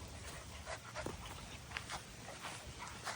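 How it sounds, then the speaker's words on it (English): A young Catahoula puppy being trained as a hog dog whimpers and pants faintly, close by, in short soft bursts over a steady hiss. "New puppy to train."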